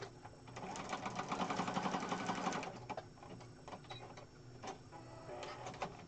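A sewing machine stitches fabric scraps for junk journal pages, running loud and fast with a dense rattling whir for a few seconds, then slowing to quieter, intermittent stitching.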